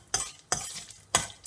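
Cumin seeds and cashews fry in ghee for avarekai upma, with three bursts of stirring and sizzling in the pan separated by brief quieter gaps.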